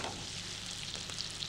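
Small onions browning in a casserole, a steady close sizzle and crackle of frying that runs evenly throughout with no voices over it.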